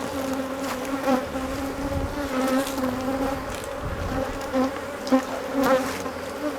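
A swarm of bees from a feral hive, a dense, close, continuous buzzing drone with individual bees swelling and passing near, no talking.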